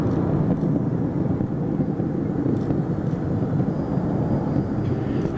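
Space Shuttle Atlantis on its STS-135 launch climbing away, a loud, steady low rumbling roar that holds without break throughout.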